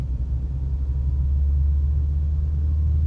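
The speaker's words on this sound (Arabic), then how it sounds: "مجرد ما وصلت ل40 صوت الموتور عالي فعلا" A manual car engine drones loudly in third gear, a steady deep rumble that stays constant and close throughout.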